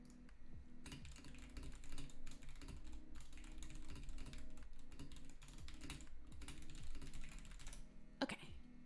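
Steady, fast typing on a British-layout computer keyboard, with dense clicking keystrokes close to the microphone and a sharper key tap near the end.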